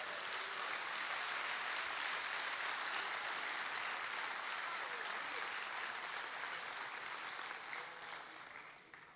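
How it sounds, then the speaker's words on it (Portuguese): A church congregation applauding, a dense sustained wash of clapping from many hands that holds steady for several seconds and then fades slightly toward the end, with no voices over it. "Se você crê nisso, aplauda Jesus Cristo."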